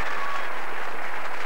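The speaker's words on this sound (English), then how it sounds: "Round of applause." Audience applause at a live London Palladium variety show, a dense steady wash of clapping from a large crowd, loud and continuous with no talk over it.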